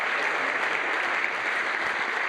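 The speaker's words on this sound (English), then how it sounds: "Let's give him a big round of applause." Audience applause at a television advertising effectiveness conference as a guest is welcomed on stage; a continuous, even wash of clapping from a large crowd, steady throughout with no talk.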